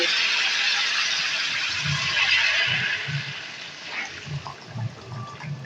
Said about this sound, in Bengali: আমি পরিমাণ মতো জল এখানে দিয়ে দিলাম